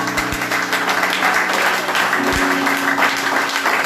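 A church congregation applauding and cheering during a worship service, a loud dense wash of clapping and voices that holds steady throughout, with low sustained tones underneath.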